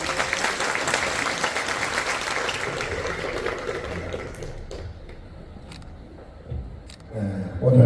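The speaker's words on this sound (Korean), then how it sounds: "박수로 맞이하겠습니다." A church congregation at a March 1st memorial prayer service claps to welcome the pastor to the pulpit: dense, loud applause that thins and fades after about four seconds, followed by scattered sounds and some faint talk.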